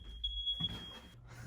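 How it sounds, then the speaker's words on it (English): A household smoke alarm, set off by a brand-new Xtronic 6020 Pro X hot air rework station, emits a piercing high-pitched continuous tone nearby, with faint handling and bench noises underneath. "there goes my fire alarm"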